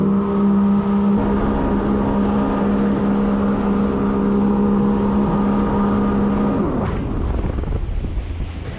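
A Sea Doo Spark Trixx jet ski at full throttle on a top speed run, its engine holding a loud steady drone with heavy wind and water rush, then dropping off near the end as it slows.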